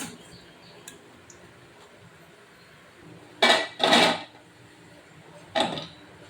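Jackfruit seed fritters are lifted out of a frying pan, giving a few sharp scraping and clinking bursts from the utensil against the pan, separated by quieter gaps with a faint background hiss.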